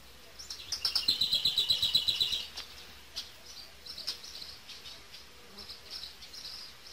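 Close, pulsing buzz of honeybees around a hive frame, with a rapid rhythmic burst early on, then a scattered, fainter drone and a few high chirps.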